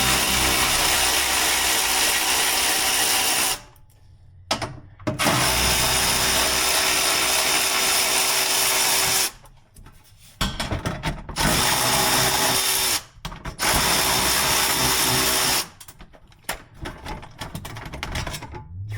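Ratchet spinning off three 10 mm bolts on the oil service hatch of a 2024 Nissan Z, loud close clicking bursts broken by short pauses between bolts.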